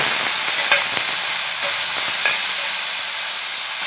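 Chopped tomato and onion frying in a pan, a continuous bright sizzle close by with a few soft stirring clicks, no voices.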